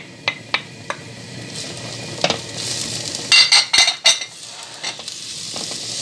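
Finely grated zucchini being stirred in a pan for shrimp spring roll filling: a low sizzle under sharp clicks and scrapes of a utensil against the pan, with a burst of clattering midway, close and fairly loud.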